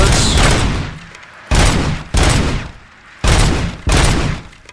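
Bursts of automatic gunfire from a gun in the video game Robocop Rogue City: five loud, sustained volleys separated by short pauses, close and dominant, with no voice over them.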